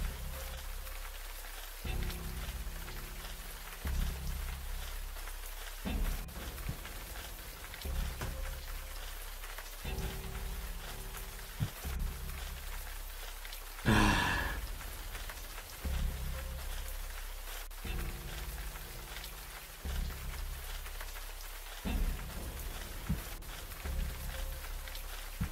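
Steady rain patters in the Siren Head game, a constant hiss of drops falling on surfaces, with low rumbling swells that come and go and one sharper gust-like burst in the middle.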